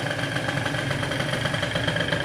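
Moped engine fitted with a 70cc kit running steadily after starting, a close, continuous buzzing drone with an even, fast pulse and no voices over it.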